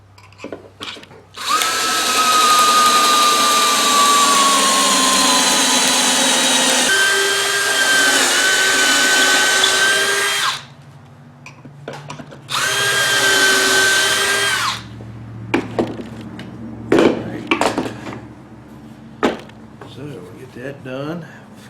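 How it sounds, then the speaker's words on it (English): A power drill whines loudly in two long bursts, pitch sagging under load as it bores pocket holes into wood, followed by short clattering knocks and handling noises. "I'm going to drill that thing"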